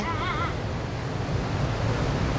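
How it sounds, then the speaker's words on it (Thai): Constant rushing water from Huai Suwat Waterfall roars close by, a dense steady wash of noise with a brief whistle-like tone at the start. "ตอนนี้เรามาถึงน้ำตก"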